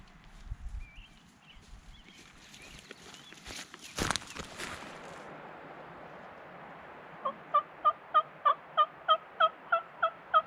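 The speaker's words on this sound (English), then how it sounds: "These turkeys are only about 100 yards away." Wild turkeys in mountain country gobble about 100 yards off, a run of roughly ten evenly spaced, fairly loud calls closing out the stretch, after earlier rustling and a sharp knock near the hunter's position.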